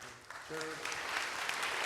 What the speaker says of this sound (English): Hold on to applause.